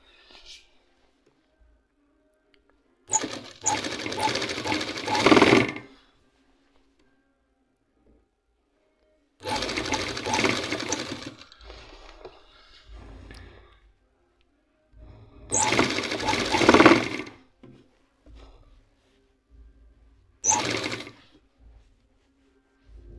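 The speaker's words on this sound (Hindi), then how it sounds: "अब हम इसको मारते हैं सिलाई" Sewing machine stitching a band kameez in four separate bursts of steady, rapid mechanical whirring a couple of seconds long, with quiet gaps between them.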